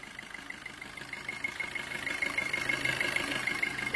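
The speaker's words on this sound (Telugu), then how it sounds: "ఇంజన్ అయితే స్టార్ట్ చేసి చూపిస్తున్నాయి, ఎందుకంటే ఇంజన్ సౌండ్ కూడా ఎట్లుందని కొంతమంది అడుగుతున్నారు." A 2018 Maruti Suzuki Dzire sedan sits with its engine idling, a low, even hum and faint whine that grows slightly louder and steadier over a few seconds.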